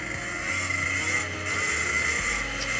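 A 1987 Honda CR250 two-stroke dirt bike is ridden at an easy pace, its engine buzzing steadily at a fairly close distance, with a constant rasp and a slight rise in revs partway through.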